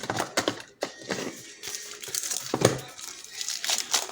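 Plastic packaging crinkles and rustles almost without pause as a silicone phone case for a Xiaomi Redmi Note 7 is unboxed up close.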